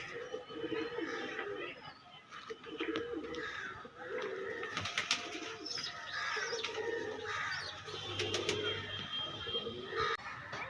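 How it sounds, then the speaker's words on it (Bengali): Pigeons cooing repeatedly at close range during flight training for a tournament, with a soft rustle of wings and light background noise, and people talking faintly nearby. "এই সাতটা পায়রা ছেড়েছি"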